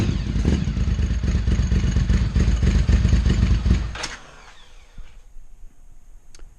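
A Ducati 800 Scrambler track bike engine runs with a rough, rapid chugging rumble for about four seconds on its first start without choke, then sputters out, followed by faint clicks and quiet.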